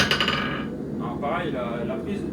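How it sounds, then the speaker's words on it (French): A blacksmith's hammer rebounds off an anvil during forging practice: a few quick, bright metallic rings at the start, followed by someone talking. "Mon marteau juste vient revenir sur l'enclume."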